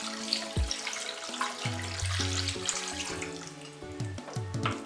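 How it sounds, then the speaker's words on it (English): Water poured into an Instant Pot while making Haitian griot, a continuous gurgling, splashing stream with shifting pitch as the pot fills, close and fairly loud. "we are going to add about 3 cups of water."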